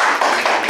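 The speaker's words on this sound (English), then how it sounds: "Please, a round of applause." Audience applause at a project presentation: a brief, dense burst of many hands clapping, loud and close, lasting under a second.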